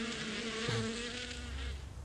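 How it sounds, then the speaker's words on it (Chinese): Honeybees from farm hives swarming outdoors, a steady insect buzz with a low droning hum that stays close and continuous throughout, with no talking. "确定是我们的蜜蜂吗？"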